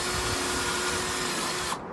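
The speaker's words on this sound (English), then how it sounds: "So I get to like super randomly drill holes into a pumpkin." A power drill bores holes into a Halloween pumpkin, a steady broadband whir with a faint tonal hum running continuously before cutting off abruptly near the end.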